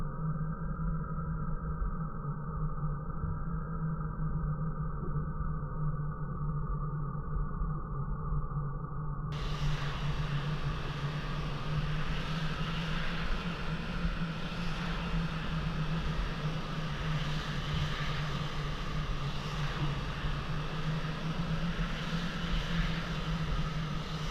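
F-16A jet engine during takeoff in the flight simulator Falcon 4 Allied Force: a muffled, steady engine drone that suddenly opens into a brighter, fuller roar partway through and holds loud and constant, with no talking.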